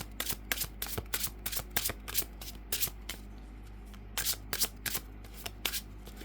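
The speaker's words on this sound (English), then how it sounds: "let me just finish doing a shuffle of these cards" Tarot cards from a Ghost Tarot deck are shuffled in quick, crisp riffling bursts, repeated with short pauses, close and fairly quiet.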